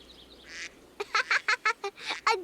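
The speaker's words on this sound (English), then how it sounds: "A duck!" A duck gives a run of loud, close quacks, about eight in a quick, uneven series after a brief first call, alone with no talking.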